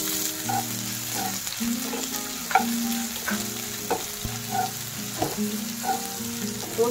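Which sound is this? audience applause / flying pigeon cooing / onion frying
onion frying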